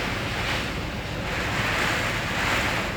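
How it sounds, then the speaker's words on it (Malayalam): Heavy rain and strong wind at Arafat, Saudi Arabia, a steady broadband roar with wind buffeting the microphone, loud and continuous throughout with no voices. "അതിശക്തമായ മഴയാണ്, കാറ്റും മഴയുണ്ട്."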